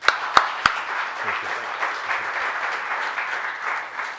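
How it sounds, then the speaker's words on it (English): A mayor receives steady audience applause, many hands clapping in a broad continuous wash after a few sharp individual claps at the start, with a brief spoken thanks near the beginning. "Let's give the mayor a round of applause."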